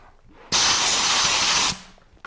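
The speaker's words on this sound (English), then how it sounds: "spray it down with any kind of lubricant, in this case WD-40" WD-40 lubricant sprayed into a lock while removing a Jeep JK body, one loud steady hiss of just over a second starting and stopping abruptly, close and clear.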